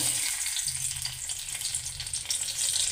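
Dried red chillies and a bay leaf sizzle steadily in hot mustard oil in a kadai, a loud, close, continuous frying hiss with a faint scrape of stirring underneath.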